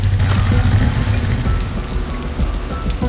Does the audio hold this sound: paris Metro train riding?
no